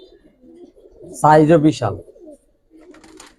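Giribaz and coloured pigeons kept by a seller give low, quiet coos in the background, interrupted by a short burst of close male speech in the middle.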